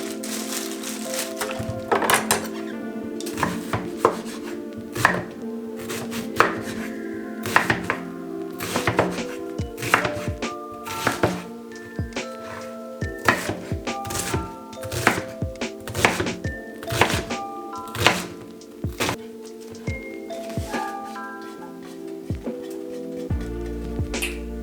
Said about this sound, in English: I'm gonna cut my onion up here.